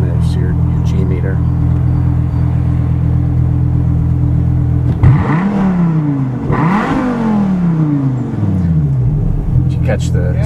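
A Viper V10 in Stryker Green revs hard twice, its pitch sweeping up toward redline and dropping back, loud and close over a steady low engine drone.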